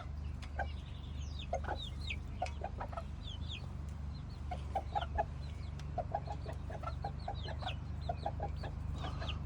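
Several hens cluck softly and repeatedly in short, scattered bursts over a steady low background hum, with no talking.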